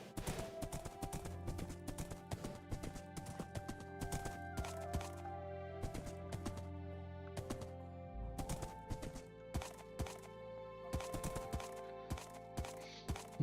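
Minecraft horse hooves clip-clop in quick, uneven runs of sharp knocks for over thirteen seconds, over low steady background tones, with no one talking.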